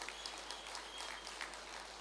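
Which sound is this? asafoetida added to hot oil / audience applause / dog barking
audience applause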